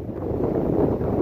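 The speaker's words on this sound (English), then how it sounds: "Wow, it is windy up here" Strong wind blasts across a snowy mountain ridge on the Roan Highlands, a continuous loud roar and rumble buffeting the microphone with no break.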